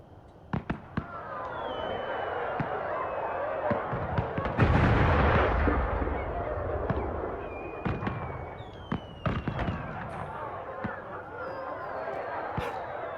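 Fireworks in the video game Dragon Age Inquisition Trespasser pop and crackle in scattered sharp bursts, with one louder rumbling boom near the middle, over a steady background bed, with a person talking at times.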